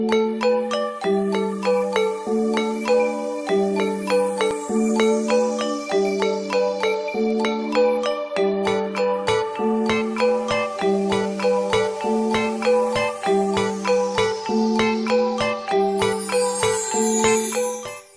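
The traditional bende becak gong of Katekan village rings out loud and clear in a steady run of bright, sustained metallic tones. Each ringing note blends into the next with a regular rhythm.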